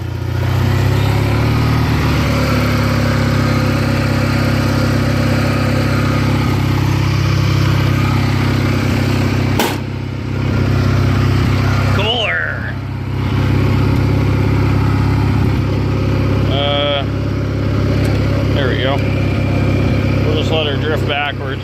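Craftsman GT6000 riding lawn tractor engine running steadily while driving, a loud constant low drone with a brief dip and clunk midway, someone talking over it at times.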